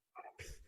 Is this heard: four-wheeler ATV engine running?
no